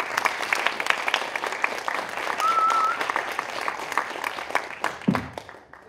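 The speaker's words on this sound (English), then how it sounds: "Please give a round of applause for Marietta." An audience at an artist lecture claps to welcome the speaker, Marietta: dense, continuous applause of many hands that thins out near the end, with a brief whistle and some faint voices within it.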